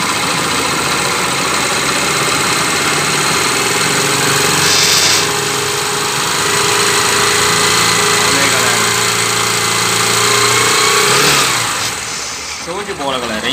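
A Yamaha Factor YBR 125 ED 2013 motorcycle with an insufficient charging system revs loud and close, holding a steady high revving drone before easing off at the end.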